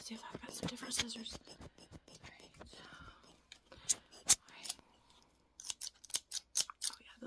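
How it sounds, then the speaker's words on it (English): Scissors snip repeatedly in short crisp cuts, close and fairly quiet, with soft whispered talk between the snips. "These scissors will actually cut these."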